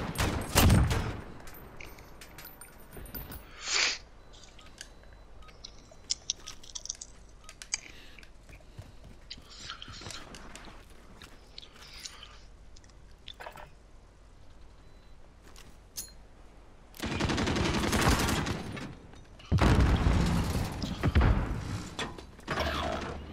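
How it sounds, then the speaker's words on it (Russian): Machine gun fire in an online match of Call of Duty: Modern Warfare (2019): a loud opening burst, scattered shots and mechanical clatter, then two long sustained bursts of automatic fire near the end. "Да блядский пулемет."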